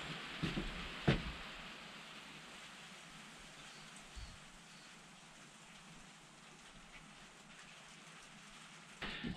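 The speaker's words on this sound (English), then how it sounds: "A whole bunch of hail just went sliding down my neck." Hail falls outdoors in the wilderness, a faint, steady patter across the ground with a few louder close knocks and rustles near the start and end.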